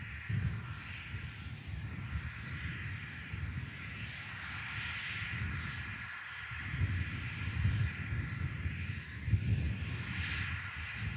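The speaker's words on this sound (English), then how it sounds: "Off goes the Jet 2 Airbus A321neo" Jet2 Airbus A321neo taking off at Manchester Airport, a steady low rumbling roar with a broad hiss above it, held at an even level throughout without any talk over it.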